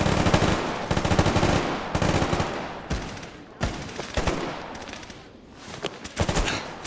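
Dense automatic gunfire in the Stalker Gamma shooter game, with rapid bursts and a few sharp single shots spread across the whole stretch, loud and close.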